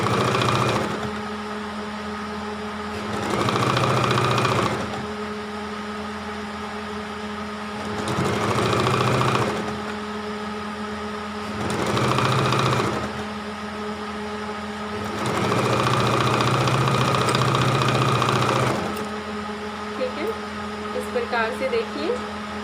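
A sewing machine stitching a toddler's designer frock runs in several loud, close bursts of steady mechanical whirring, each lasting a few seconds and separated by short pauses, with light clicks near the end.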